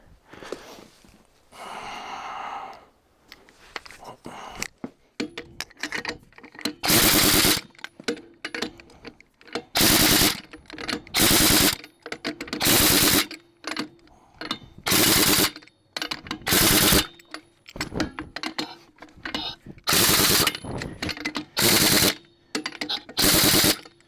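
A power tool rattles out short, loud bursts as it runs bolts tight on the passenger-side steps of a Freightliner FLC truck, each burst separated by quiet gaps and handling noise.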